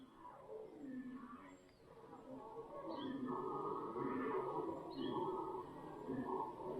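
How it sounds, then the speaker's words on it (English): Troop of monkeys calling from somewhere out of sight in the forest of Tayrona park, Colombia, a dense, continuous chorus of overlapping howls and roars rising and swelling at a distance. "Thinking that might be monkeys, a load of monkeys."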